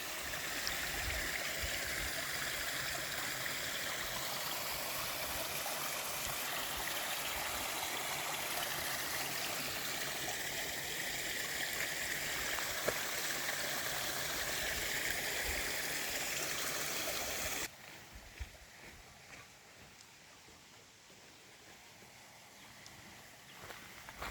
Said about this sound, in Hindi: ये पानी बड़ा साफ़ सुथरा पानी है जो पहाड़ों से आ रहा है आबशार की शक्ल में